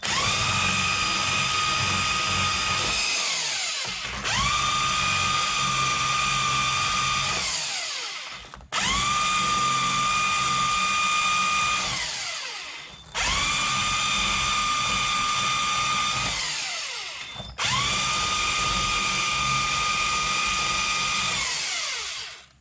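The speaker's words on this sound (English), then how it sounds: "Now I've got a wire brush on a drill." A power drill with a wire brush whines loudly in five long bursts, revving up and spinning down between each run, grinding against the metal of a 2006 Nissan Altima's brake hub.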